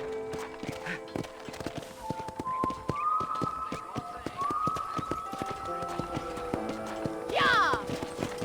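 Horses gallop in the Western video game Red Dead Redemption, rapid clip-clopping hooves running throughout, with a brief whinny near the end and music tones underneath.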